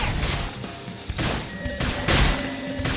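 Rising Blade melee attack in the video game Xenoblade Chronicles X, with several heavy impact bursts and crashes landing in quick succession over a busy battle soundscape.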